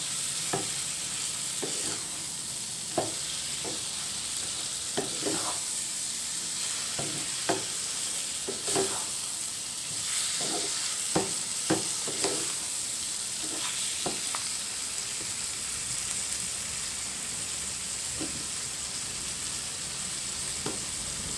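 Chicken pieces for a papaya curry frying in a pan, stirred with a spoon: a steady close sizzle with repeated clicks and scrapes at an uneven pace, and no voices.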